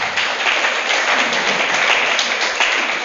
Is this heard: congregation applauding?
yes